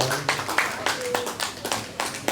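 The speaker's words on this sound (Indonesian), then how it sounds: "Tepuk tangan Bapak Ibu untuk Pak Hakim" Audience applause at a retirement farewell event at a resort in Sentul, Bogor, honoring Pak Hakim from SMP 8 Jakarta; a few scattered claps rise and fade over a voice talking, fairly faint and sparse.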